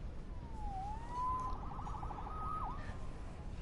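A police siren in the Spider-Man video game wails faintly in the distance, rising and falling in a couple of sweeping cycles over a low background rumble.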